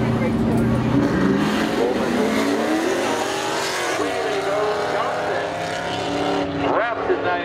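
A 1997 Firebird and a 1999 Camaro launch side by side in spectator drag racing at Seekonk Speedway, loud V8 engines roaring and climbing in pitch together with tire squeal, under a continuous announcer's voice.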